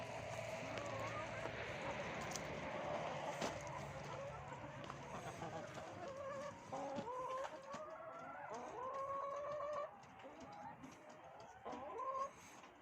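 Chickens cluck repeatedly at close range, a busy flock with short rising calls overlapping one another, some louder bursts near the end.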